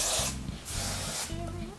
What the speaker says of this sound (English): I just lightly spray it.